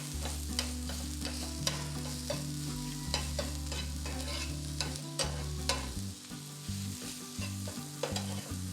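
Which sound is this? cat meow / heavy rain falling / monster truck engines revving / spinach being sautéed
spinach being sautéed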